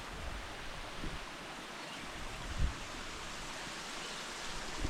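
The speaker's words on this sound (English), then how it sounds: "We're at the river that runs below it." A river flows below a viaduct, giving a steady, faint wash of rushing water with soft wind-like noise and no voices.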